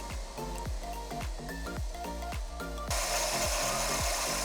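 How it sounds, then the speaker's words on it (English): An angle grinder with a flap disc smoothing the tops of metal pieces for a custom EV battery box, a rasping, whining grind in repeated short passes that turns into a steady, louder grind. "I'll just hit the top of these with a flap disc just to make sure they're nice and flat"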